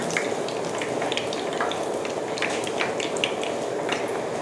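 Ripe bananas crackle and sizzle as they deep-fry in hot oil, a steady close bubbling hiss dotted with tiny pops throughout, with no voices over it.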